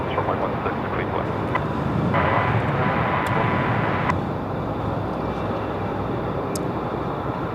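At Melbourne Airport, an aircraft's engine produces a broad, continuous rumble with a steady roar, heard from a distance over wind noise.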